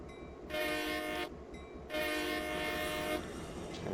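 A diesel locomotive horn in Train Simulator 2014 on the Stevens Pass route sounds in three blasts, the first two short with a brief gap, the third longer and fading, over a low rumble.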